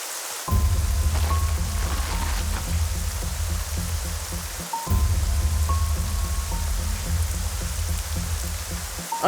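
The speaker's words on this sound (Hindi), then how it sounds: "बारिश बहुत तेज हो रही है" Heavy rain pours steadily, a dense continuous hiss with a low rumble underneath. Faint tonal beeps are heard twice, and the downpour briefly drops out once before resuming.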